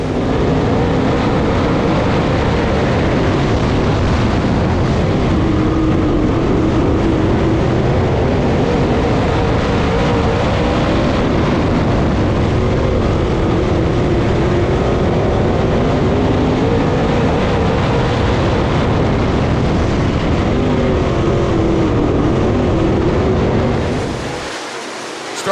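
Race cars at Southern Raceway, a paved short track, roar past in a dense, steady wall of engine noise that holds loud for over twenty seconds, then cuts away abruptly at the end.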